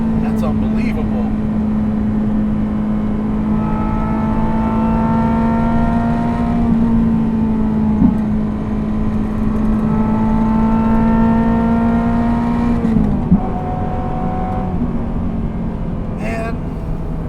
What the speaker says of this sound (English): One of the greatest sounding V8s in history.